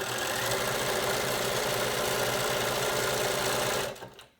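A sewing machine runs a zigzag seam in black thread to close a fabric band for a mask tie. It makes a loud, continuous rhythmic whir up close, then cuts off abruptly just before the end.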